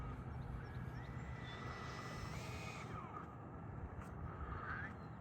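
A Freewing J-10 90mm 8S electric ducted-fan RC jet flies past, its whining fan rising and falling in pitch over a steady rushing background, moderately distant and without voices.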